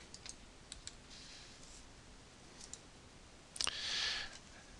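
Mouse clicks on a computer, a few short sharp clicks scattered through, with a tight double click and a brief rustle near the end, faint and close with quiet room tone between.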